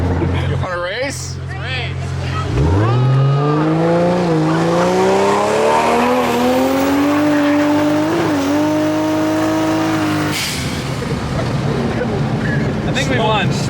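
Car at a street car meet launching hard, engine note sweeping up through the revs with a gear change, loud and close, with a tire screech near the start and a sharp burst near the end.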